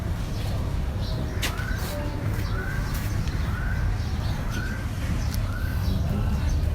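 A female pigeon coos from a rooftop, a series of five soft, evenly spaced calls over steady outdoor background noise, faint and somewhat distant.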